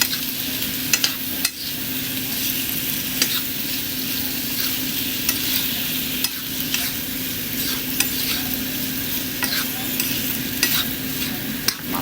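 Beef and onions sizzle steadily in a hot pan while being stirred, with a constant close frying hiss and occasional scraping clicks of the utensil, no talk.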